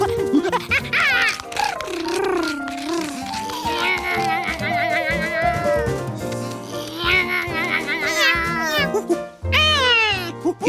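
A cartoon cat in a Curious George episode meows repeatedly with long, wavering, loud calls, set against background music.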